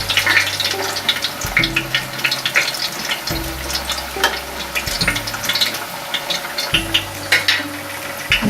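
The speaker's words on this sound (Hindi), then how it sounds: "हम फ्लेम को लो कर लेंगे और हम इसमें अब ऑयल डालेंगे।" About two tablespoons of mustard oil go into a hot pressure cooker over a low flame, giving a continuous sizzling hiss with scattered crackles over a recurring low hum.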